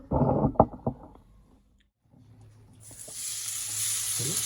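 Ginger hits a hot pan and starts to sizzle, a steady hissing fry rising after some clatter of the pan and utensil.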